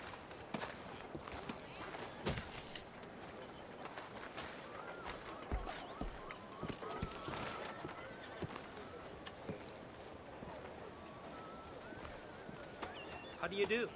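Rapid hoofbeats of a galloping horse in Red Dead Redemption 2 clatter throughout, with an occasional whinny, under a busy mix of talking voices and background noise.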